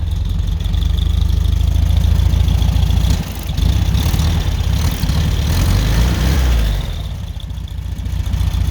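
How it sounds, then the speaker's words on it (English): A 1985 Mexican-built Volkswagen Beetle engine idles roughly after sitting for years, a loud, close, steady low rumble with an uneven beat, dipping briefly in the middle before settling back. "Doesn't sound like it wants to idle properly."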